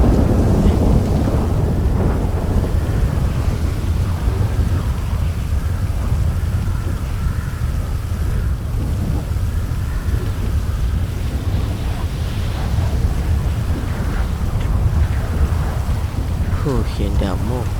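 Heavy rain and thunder in the video game GTA V make a loud, continuous downpour with deep rolling rumbles and some wind buffeting throughout.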